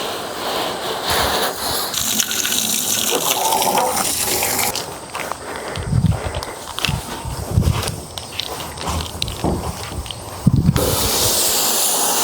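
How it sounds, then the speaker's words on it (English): Hose water sprays and splashes against a 1979 Datsun 280ZX being washed after a decade abandoned, a steady rushing hiss with louder bursts and dull thumps as the spray shifts across the body. "washing this thing 2 or 3 times to make sure I really got it, flushing all the little crevices out"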